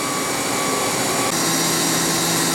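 A Mazak MH 580 CNC horizontal machining center spindle runs at about 10,000 RPM, producing a loud, steady high-pitched whine with a constant hiss and no breaks.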